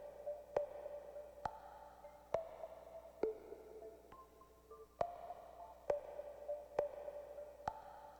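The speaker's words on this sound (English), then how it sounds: "I'm just using basically a sine wave with a bit of frequency modulation at the start to create that pop" A synthesized sine-wave tone with a quick burst of frequency modulation at its start, giving a pop; short electronic hits repeat at a steady, roughly regular pulse over a faint sustained pitch, clean and with no voices.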